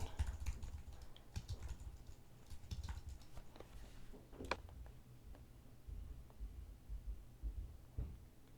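Keys clatter on a computer keyboard in quick irregular bursts, fairly close and quiet, with brief pauses between runs of typing.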